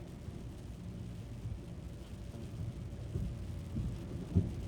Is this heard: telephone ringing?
no